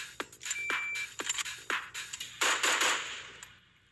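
Airsoft AK rifle firing at a target about ten feet away, a series of sharp snapping shots in quick succession followed by a short burst and a metallic ring fading out.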